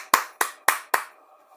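Four sharp hand claps, close and evenly spaced with brief gaps between them, then the sound trails off into quiet, with no talking.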